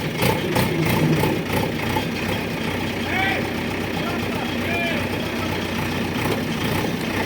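A JCB 3DX Plus backhoe loader runs steadily while towing a broken-down New Holland 3030 tractor with trolley outdoors, its engine a continuous low rumble under constant broadband noise, with brief voices nearby.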